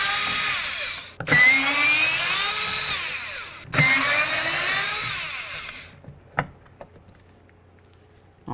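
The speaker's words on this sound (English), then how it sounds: "We're going to remove the 3 mounting bolts for the motor." A power tool whirs loudly in two long bursts while backing out the motor mounting bolts on a window regulator of a 2008–2016 Chrysler Town & Country, each run starting abruptly and ending in a sudden stop, followed by a few faint clicks.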